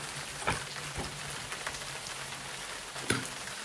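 Rain falls as an audiobook sound effect on a windy day, a soft steady patter with a few louder drops, heard quietly and alone.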